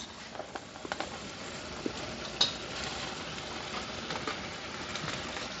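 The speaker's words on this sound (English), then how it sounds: "Now I'm about to mix in the summer sausage." Onions and summer sausage cook in a pan while being stirred, giving a faint, steady low sizzle with scattered soft scraping clicks and one brief sharper knock near the middle.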